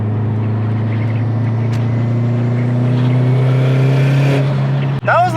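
A 2005 Subaru STI engine revs at full throttle, a loud, steady, close drone whose pitch climbs gradually for about five seconds before cutting off abruptly near the end.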